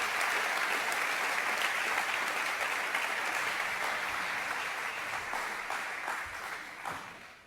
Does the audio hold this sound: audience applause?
yes